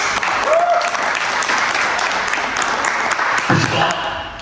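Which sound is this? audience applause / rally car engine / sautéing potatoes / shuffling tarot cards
audience applause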